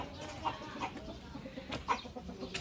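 Chickens clucking in a backyard coop in the Philippine countryside, a few short clucks and calls at close range, fairly quiet over soft outdoor background noise.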